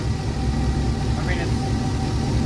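A dump truck's diesel engine idles steadily at close range with a low, even rumble. It keeps the same pitch with no revving.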